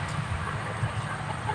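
Chickens cluck softly on a farm, close and steady over a brief stretch, under a constant background hum.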